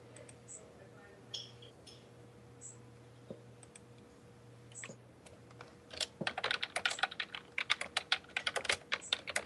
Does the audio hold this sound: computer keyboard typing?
yes